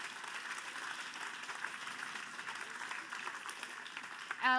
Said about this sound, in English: I do think that he deserves a major applause